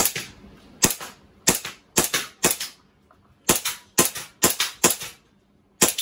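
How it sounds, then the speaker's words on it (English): An airsoft pistol fires a series of sharp, snappy cracks, about eleven shots in uneven bursts and pairs with short pauses between, loud and close with no talking. "Darren has a little mess about with the pistol"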